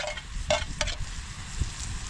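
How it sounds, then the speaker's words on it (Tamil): Green chillies and onion stirred and sautéed in a hot pan, giving a couple of short scraping, sizzling bursts over a low crackle. "பச்சை மிளகா போட்டாச்சு. இதையும் நல்லா கிண்டி வதக்கிக்குவோம்"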